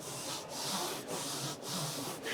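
Hand rubbing dark upholstery fabric inside a motorhome, a soft, close scratchy swish repeated in about four back-and-forth strokes with brief pauses between, no talking.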